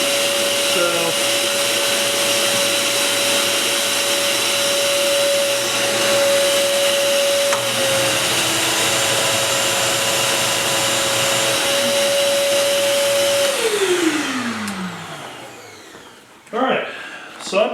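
A Hercules 12 gallon OSHA-compliant dust extractor runs with a loud, steady, fairly high-pitched whooshing motor drone, then switches off and spins down with a falling whine, followed by a few faint handling knocks.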